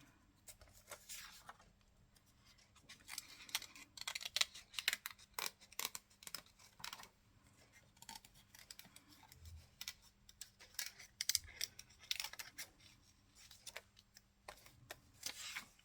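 Scissors fussy cutting paper for a collage, a steady run of quick, close snipping clicks in uneven bursts throughout, with no talking.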